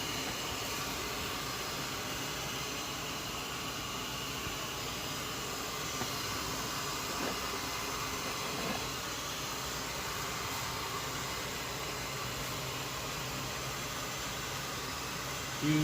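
Torch heating the frame of a 1991 Nissan R32 Skyline during left front frame repair in a shop, a steady broadband roaring hiss held evenly throughout at moderate level, no talk.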